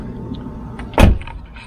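The back door of a Tesla fitted with RPM puddle lights opens with a single short clunk and rush of sound amid quiet background hum.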